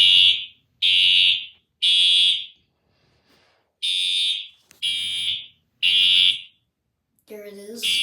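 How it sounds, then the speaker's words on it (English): A fire alarm system sounds during a test, giving six loud, evenly spaced electronic horn blasts of about a second each, with a gap after the third, then a brief burst of a voice speaking at the end. "this is another test of fire alarm system"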